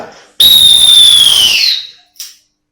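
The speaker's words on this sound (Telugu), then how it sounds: "సో ఇది లాంగ్ విజిల్ విత్" A single long, loud whistle blast used as a physical education signal, one sustained shrill tone of over a second that slowly falls in pitch, followed by a brief fainter chirp.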